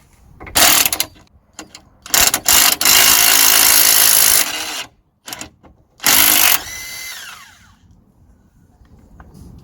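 An air-powered impact tool with a 17 mm socket rattles in several loud, sustained bursts while taking a nut off the underside of a Mitsubishi steering assembly, with short quiet gaps and clicks between the bursts.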